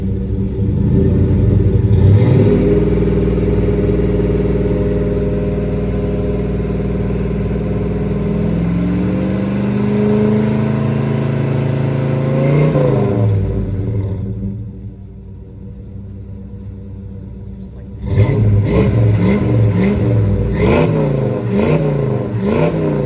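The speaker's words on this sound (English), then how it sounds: "that's the Flowmaster Super 40s that you're listening to" 1987 Ford Bronco engine with 24-pound injectors breathing through Flowmaster Super 40 exhaust, loud deep idle rumble swelling into sustained revs, a brief drop to idle, then several sharp blips of the throttle, close and alone.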